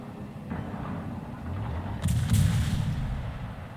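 Naval gunfire from warships in the video game World of Warships booms as a muffled, distant salvo, deep rumbling thuds swelling midway and fading out, without talking.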